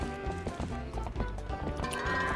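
Horse hooves clip-clopping during horseback riding in a Zelda video game on GameCube, a steady rhythmic trot over layered game music, continuous and moderately loud.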